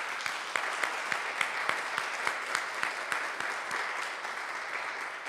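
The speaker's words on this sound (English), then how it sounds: "let's give him a round of applause" Applause from the congregation at an annual parish meeting, a steady dense clapping from a modest crowd with sharp individual claps standing out, sustained throughout without speech.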